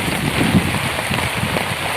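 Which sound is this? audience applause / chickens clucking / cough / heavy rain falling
heavy rain falling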